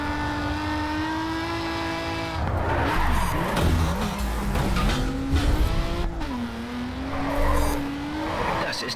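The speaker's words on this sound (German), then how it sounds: "Starker Drift" A car drifting in the racing game Grid 2, its engine holding a steady high drone before long tire squeals and revving swells take over, loud and continuous with no talking.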